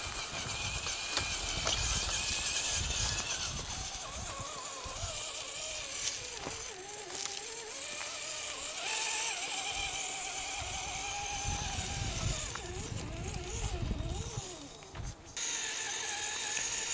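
Axial CJ7 scale RC crawler Jeep with upgraded shocks and parts, driven on a test run: a continuous whining electric motor and gear drivetrain with ratcheting, clattering mechanical noise, steady and close throughout.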